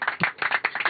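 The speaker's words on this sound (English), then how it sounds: "I don't think I'm ready for clapping yet" A small burst of quick hand claps, several people clapping briefly in a tight, close, somewhat muffled room during a space mission docking event.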